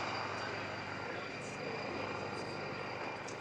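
A T129 ATAK Turkish attack helicopter comes in to land, its engine and rotor noise a faint, steady far-off roar with broad hiss.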